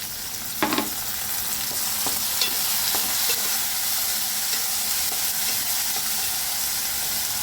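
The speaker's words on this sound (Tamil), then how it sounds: "வெங்காயம் பூண்டு ரெண்டையும் போட்டு நல்லா வதக்கலாம்" Onion, garlic and tomato sauté in a pan for a tamarind kuzhambu: a soft, steady frying hiss with occasional stirring scrapes and clinks, close and fairly quiet, with no talking.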